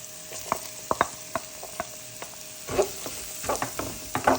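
Three large chopped onions dropped into ginger, chilli and garlic paste for an aloo puff filling, with scattered spoon clicks and scrapes giving way to a louder, steady sizzle and stirring near the pan.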